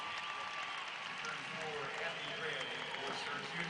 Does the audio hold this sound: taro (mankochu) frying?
no